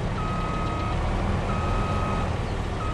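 Truck reversing alarm in the farming game Farming Simulator 22, steady electronic beeps repeating about every second and a half over a low diesel engine rumble, no talking.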